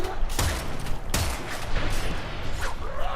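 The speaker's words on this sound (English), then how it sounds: "if I get cocky and start opening fire on this guy" Gunfire in Warframe, a few sharp shots standing out at irregular intervals over a noisy background of game effects and mechanical sounds.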